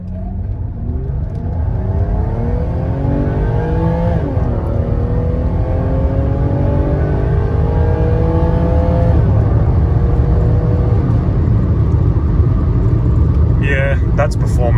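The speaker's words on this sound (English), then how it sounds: "So I'm just going to floor it here and we'll see what happens." A Mercedes W124 300E-24 with KE-Jetronic injection accelerates at full throttle on kickdown, its engine note rising steadily in pitch through a sustained, loud pull that drops back near the end.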